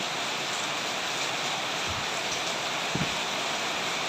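Steady rain falls heavily before dawn during flooding, a continuous broadband wash of water with a couple of faint low knocks, no talking.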